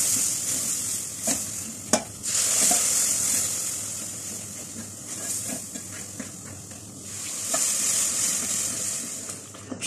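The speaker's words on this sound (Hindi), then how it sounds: "अब जो शीरा हमने तैयार किया हुआ है ये थोड़ा थोड़ा डालेंगे और साथ साथ चलाते रहेंगे" Sugar syrup is poured little by little into besan and suji halwa with raisins, while it is stirred constantly. Loud hissing and steamy sizzling swell and fade, broken by frequent scraping spoon strokes and occasional clinks against the pan.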